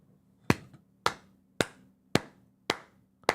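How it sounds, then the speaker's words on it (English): Six sharp hand claps at an even, moderate pace, each a crisp close-up smack with a short decay, over a faint low hum. "No, sorry, that clap was too fast."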